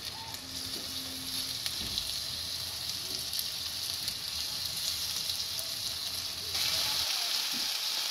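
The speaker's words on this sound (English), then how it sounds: "just browning up the meat so it locks those flavors inside while it's cooking" Stew meat browning in a hot pan gives a steady, close sizzle that runs the whole time, with faint scraping and a brief low voice in the background.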